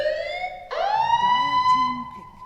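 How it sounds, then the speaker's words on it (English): An alarm siren sound effect plays during a Dota 2 esports broadcast, a loud rising and falling electronic wail that jumps in pitch midway and holds steady, with a low murmur beneath. "I want to hear an alarm. Give me some abrasive sounds to bring us into the draft"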